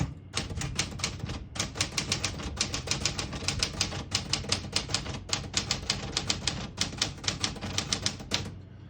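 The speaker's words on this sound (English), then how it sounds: "Very nice typing machine." Fast, steady clacking of a 1964 Smith-Corona Galaxie portable mechanical typewriter's keys, with brief pauses between bursts of keystrokes, close and clear.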